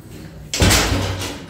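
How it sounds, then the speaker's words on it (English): A door swings open with a sudden close thud, followed by a broad rush of air and room noise as people enter an Ulta beauty store. "Open the door."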